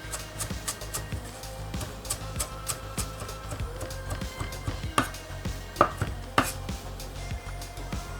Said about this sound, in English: rough chop